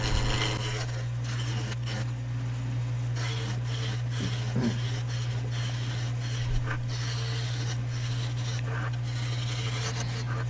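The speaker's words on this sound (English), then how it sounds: "We'll be turning it around with a roughing gouge." A freshly sharpened roughing gouge cuts a spinning wood blank on a lathe for a mallet, giving a steady close scraping rasp over the constant motor hum, with a few brief catches.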